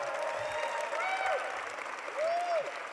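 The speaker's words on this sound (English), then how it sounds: "Can we just give her one more round of applause?" A fairly quiet, somewhat distant round of audience applause at a White House celebration of Asian American and Pacific Islander heritage, with crowd noise and a few rising whoops or cheers over the clapping.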